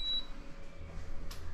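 A MrCool DIY 12k BTU mini split unit gives one short high beep as it is switched on for the first time, followed by a faint low hum.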